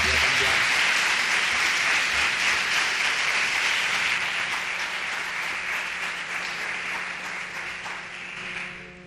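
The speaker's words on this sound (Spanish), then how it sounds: "Un aplauso para Verónica." An audience at a family medicine conference gives a long round of applause, loud and dense at first and gradually fading over about nine seconds, with a faint voice briefly heard near the end.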